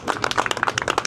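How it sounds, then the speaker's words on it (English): A small group claps at the close of a wine tasting aboard a river cruise ship, with scattered individual hand claps in an uneven, fairly brief burst of applause at moderate distance. "Can we have a round of applause?"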